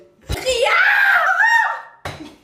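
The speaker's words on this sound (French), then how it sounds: "On va crier ensemble." Several young people scream together in one loud, sustained wavering cry lasting well over a second, ending abruptly before another voice cuts in.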